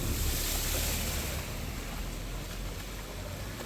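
Floodwater rushes steadily, roaring continuously and broadly in Nallur, Jaffna, with a constant wash of noise and no voices.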